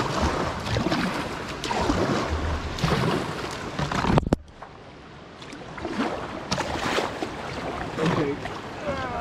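A canoe paddles upstream on Flat River amid steady rushing water and wind buffeting, with a sharp knock near the middle followed by a briefly calmer wash.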